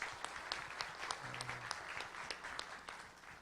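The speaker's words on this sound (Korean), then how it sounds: "우리 언어프믹스의 양준철 대표 박수 부탁드리겠습니다" Scattered applause from a small audience at a Korean venture forum, a few distinct claps standing out over a quiet, thin patter for a few seconds.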